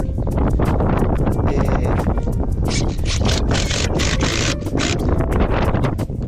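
Strong gusty wind buffets the microphone on a house rooftop during a ridge cap repair before a typhoon, a loud continuous roar with rushing surges throughout.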